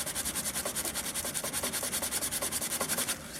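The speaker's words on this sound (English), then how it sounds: "A little sandpaper back and forth." Sandpaper rubbed back and forth on the wooden block of a handmade Native American flute, a quick even rasping rhythm of about eight strokes per second, close and steady with no voices.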